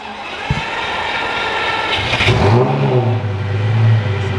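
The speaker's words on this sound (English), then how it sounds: "I have not heard this engine start up and stay turned on in a very, very, very long time." A Lamborghini Gallardo's engine cranks and catches, then settles into a loud, steady idle with a deep rumble and a few swells, close by.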